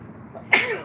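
A single sharp sneeze from a person on a night street in Topeka, one abrupt burst rising out of quiet background murmur and trailing off quickly.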